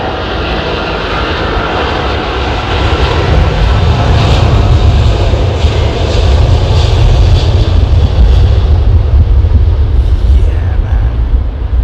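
Jet airliner passing close at London Heathrow, its bypass air producing a loud, continuous broadband roar that swells and holds steady for over ten seconds.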